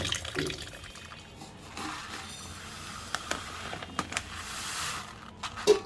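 Water runs from a tap over beef taken from the fridge to soak it, a faint continuous splashing stream with a few small splashes and drips.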